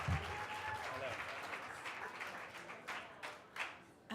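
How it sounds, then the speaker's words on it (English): An audience applauds in a steady patter of many hands clapping, fairly soft and distant, thinning out toward the end. "And keep applauding for Marchand, LaRoux."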